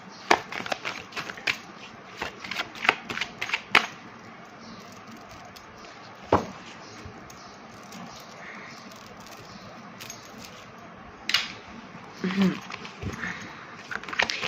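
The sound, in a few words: shuffling tarot cards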